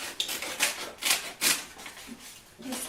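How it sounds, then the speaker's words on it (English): Scissors cutting along the edges of paper for a scrappy handmade sketchbook, heard as a series of close, crisp snipping strokes with short pauses between them. "just cut along that side and then cut along this edge"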